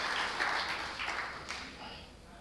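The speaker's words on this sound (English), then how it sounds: "please can we have an energetic round of applause" Crowd applause at a live player auction for a district advocates' premier league cricket season breaks out loudly at first, then thins and fades over a couple of seconds.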